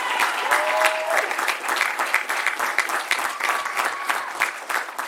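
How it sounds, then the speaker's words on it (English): A commencement audience at New England College applauds the families and friends of the graduating class, a steady wash of clapping lasting throughout with a few whistles and scattered cheers rising above it. "How about a round of applause for the families and friends of the class of 2026?"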